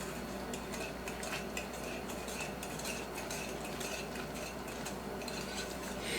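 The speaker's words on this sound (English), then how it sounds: "Put it into your dry ingredients and just stir it up." Crushed pineapple with its juice being stirred into dry cake ingredients in a bowl for a hummingbird-style cake, a steady wet scraping and clinking of a utensil against the bowl, continuous and close.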